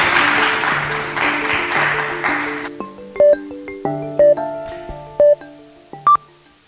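Audience applause at a French-speaking event, dense clapping for nearly three seconds that cuts off and gives way to a few sparse tonal notes, like music starting.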